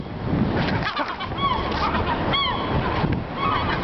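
Seagulls call with sharp, repeated squawks on a parking garage rooftop, loud and nearby over a steady wind-like background, a couple of clear cries standing out.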